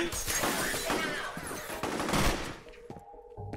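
Rapid shotgun and automatic gunfire in the shooter game F.E.A.R., a dense, loud barrage of overlapping shots that thins into scattered blasts and ringing tones near the end.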